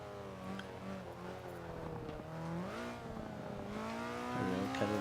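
An Alfa Romeo Stradale 33 engine in the racing video game Forza 5, moderately loud and steady, with gear changes and rising and falling revs through corners, gaining again toward the end.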